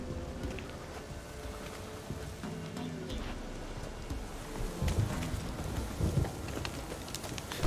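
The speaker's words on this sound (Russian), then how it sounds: "Сейчас дождь начнется." Rain falls in The Witcher 3: Wild Hunt, a steady wash of in-game downpour with distant low rumbles like thunder, continuous and moderately loud with a swell near the end.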